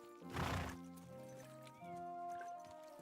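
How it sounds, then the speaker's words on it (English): A horse in the medieval game Kingdom Come: Deliverance 2 gives a loud nearby whinny, followed by steady clip-clop of hooves under tonal game music. "this is the same horse you get at the beginning of the previous game"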